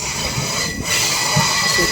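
The Mangaluru Central to Chennai Central superfast express runs loud and close, a dense rolling rumble with metallic wheel noise and hiss, carrying on steadily without speech.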